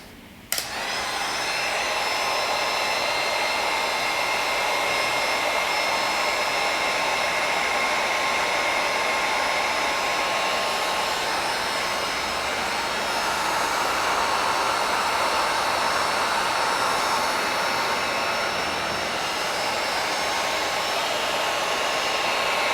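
A heat gun blows with a steady, hair-dryer-like roar for over twenty seconds without a break as it heats heat shrink tubing over freshly wired socket wiring. It sounds close and constant.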